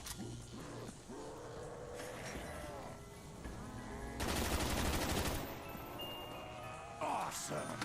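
A rapid machine gun burst rattles out in the video game CoD Zombies, a dense, loud stretch of shots lasting about a second, amid game noise and voices talking at times.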